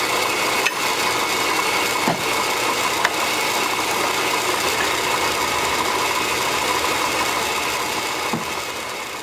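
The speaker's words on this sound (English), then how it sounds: "we're going to go ahead and start drilling with a smaller bit until we get it big enough" A small drill bit bores into steel plate for a homemade three-point drawbar trailer hitch, giving a steady, loud grinding whine that runs throughout with a few faint clicks and no talking.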